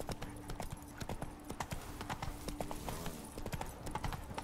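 Horse hooves galloping in The Witcher 3, a quick steady clip-clop of hoofbeats close up, running continuously under faint game ambience.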